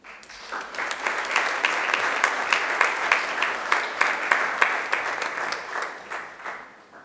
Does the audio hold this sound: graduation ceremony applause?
yes